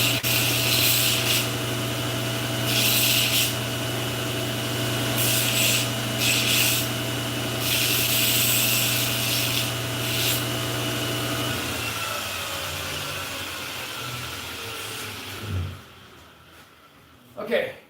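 A hand file rasps across a quenched steel blade in several short bursts of scraping strokes over a constant machine hum. The hum cuts out partway through, leaving quieter handling noises.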